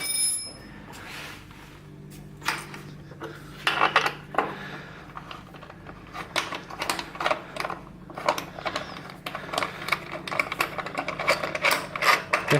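Metal tools clinking and ratcheting while the exhaust bolts come off a Yamaha YZF-R motorcycle muffler, with sharp irregular clicks and clatters close by and a low hum underneath.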